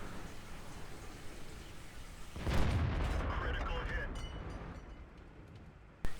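A tank gun in a video game fires a single heavy boom that rolls into a long, fading rumble over a constant background wash. A short sharp click follows at the very end.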